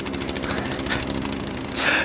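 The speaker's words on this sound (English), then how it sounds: "Just start your chainsaw up, we'll go in, game over." Chainsaw running in the video game The Culling, a loud continuous rattling drone up close that swells louder in the final moment.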